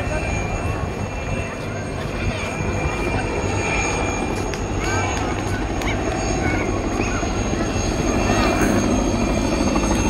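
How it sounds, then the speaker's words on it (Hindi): A helicopter carrying the UAE flag over a National Day road show in Ras Al Khaimah makes a loud, continuous rotor thrum with a steady chopping beat, close overhead and dominating the whole stretch. "हेलीकॉप्टर आ रहा है झंडा लेके"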